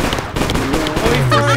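Gunshots fired at Bigfoot in the video game Bigfoot, loud sharp cracks tightly bunched in a short burst, mixed with shouting voices.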